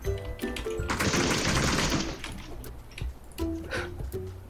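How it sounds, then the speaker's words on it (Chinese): Gunfire in the battle royale game PUBG: a loud burst of rapid automatic shots lasting about a second, followed by a few scattered single shots, close and dominant. "我子弹多啊，兄弟，两枪还不死啊？"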